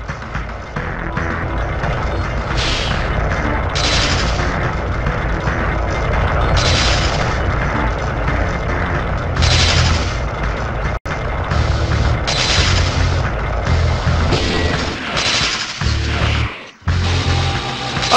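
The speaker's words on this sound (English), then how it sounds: "Okay, quit shooting the lasers." Laser blasts fired repeatedly in the Spider-Man PS1 video game: a dense, loud stream of buzzing shots and booming mechanical game effects that continues without pause, with a brief dropout near the end.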